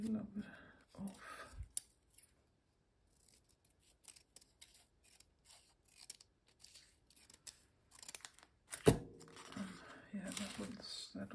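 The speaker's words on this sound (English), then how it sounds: "Perhaps it's a little too big, but I could cut a little of it off." Scissors snip a small black paper piece during papercraft embellishing, giving a few short crisp cuts and paper rustles, with speech heard around them.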